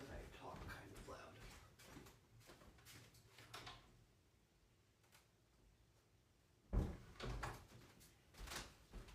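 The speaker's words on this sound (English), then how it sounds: "Let me shut the door as I realize that I talk kind of loud." An indoor door being shut gives one distinct thud with a brief rattle midway, set between quieter stretches of room sound, with someone talking softly before it.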